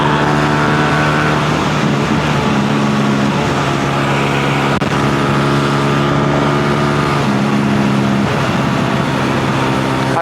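A motorcycle riding along a highway after an airbox change, its engine droning loud and close at a steady pitch throughout with no talking.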